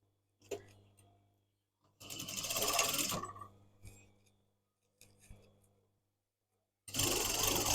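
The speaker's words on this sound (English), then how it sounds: "And then I'm stitching the other side of the tape." A sewing machine stitches curtain tape in short runs, its needle whirring in bursts of a second or so, separated by quiet pauses and light clicks of handling.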